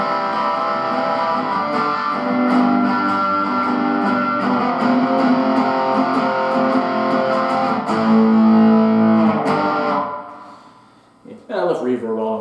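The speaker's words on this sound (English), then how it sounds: "this guitar is noticeably louder when I put it through the amp" Loud electric guitar played through an amp with distortion and reverb, tone turned all the way up, sustaining chords with a steady dense roar for about ten seconds before fading into a few fresh plucked notes.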